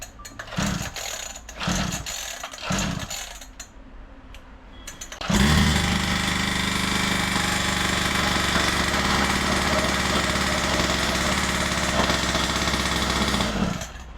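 A few short engine revs and pauses, then a loud motorcycle engine with no silencer roars steadily at close range, rough and unmuffled, with a voice briefly audible.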